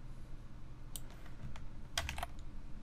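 A computer keyboard is tapped during web coding work, several quick key presses entering shortcuts such as cut, close and crisp over a steady low background hum, with no talking.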